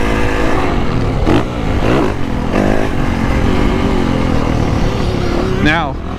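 A Yamaha YZ450F motocross bike engine revs up and down in loud, close surges that rise and fall repeatedly, with speech over the top throughout.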